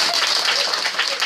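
A short burst of lively clapping applause, dense and fairly close, with no speech over it.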